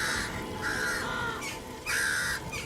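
Crows cawing outdoors, a series of harsh repeated calls in uneven bursts, several birds at moderate distance over a steady background hiss.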